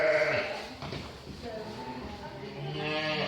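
Sheep and young lambs bleating inside a farm shed, several overlapping calls near and mid-distance, some high and wavering, others deeper, with a voice talking among them.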